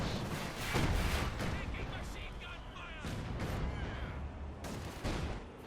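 Dense, continuous battle noise with booming artillery and rattling gunfire in Company of Heroes 2, grenadiers under attack as anti-tank guns and a machine gun join in, with a commentator's voice running over the din throughout.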